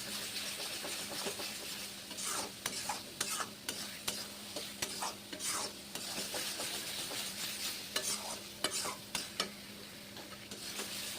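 Spice paste with Kashmiri chilli powder and turmeric fries in a pan for a Barishal-style fish curry, a steady soft sizzle broken by repeated scraping and stirring clicks of a spoon.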